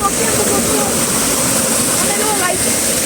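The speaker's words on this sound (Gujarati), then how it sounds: "તો મોજા આવે છે અહીંયા" Sea waves break on the beach in a loud, continuous close-up roar of surf that never lets up.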